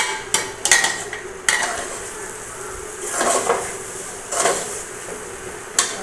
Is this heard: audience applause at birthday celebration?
no